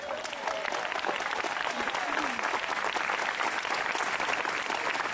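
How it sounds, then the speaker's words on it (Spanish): Church congregation breaking into sustained applause during a sermon, a dense, even wash of clapping from many hands. "¿Cuánto le dan aplauso a Jesús?"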